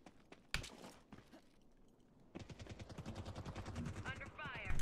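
Gunfire in the video game Ascendant: a sharp shot early, then a sustained rapid burst of automatic fire building in loudness toward the end, with game sounds beneath it.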